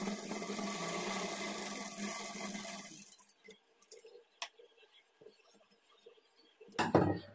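A sewing machine stitches a blouse seam in a dense, continuous whir for about three seconds, then stops; light clinks and handling noises follow, ending in a brief louder clatter.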